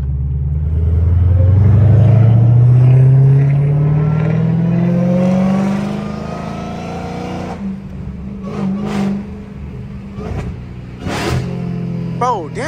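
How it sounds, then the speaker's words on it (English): A Dodge Hellcat running with no air intake revs up with a loud, rising engine roar close by, then drops through downshifts into a lower rumble punctuated by sharp blips and pops, with someone talking over it. "these downshifts are so fucking smooth, bro"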